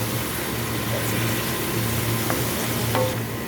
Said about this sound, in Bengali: দিয়ে মশলাটাকে আমি ভালো করে কষাই নিব।